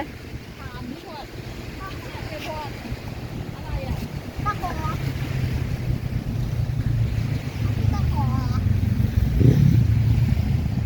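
Wind buffets the microphone at a sandy seaside beach, a constant low rumble that swells louder toward the end, with faint surf and occasional voices of people nearby.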